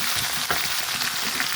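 Onions sizzle steadily in hot oil in a pan for a South Indian chicken curry with curry leaves. The frying is close and continuous, with faint stirring scrapes now and then.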